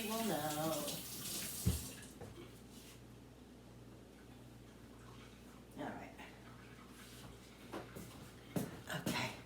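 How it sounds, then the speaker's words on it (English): Water running from a kitchen tap as hands are washed, a brief gush at the start, then low background flow with scattered splashes and clinks, and someone talking quietly. "And let me go wash my hands."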